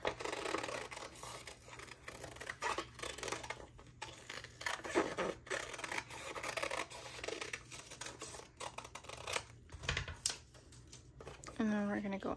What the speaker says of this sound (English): We're gonna trim around it.